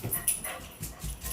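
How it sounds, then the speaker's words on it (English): Dogs indoors giving faint, short barks and yips in scattered bursts, fairly quiet and close. "Girls, you are too noisy. I have no idea what they're barking at."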